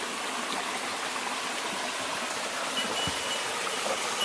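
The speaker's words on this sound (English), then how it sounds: "this wonderful stream that we're following" A creek on the Appalachian Trail flows steadily, its broad rushing babble continuous and close, with no voices over it.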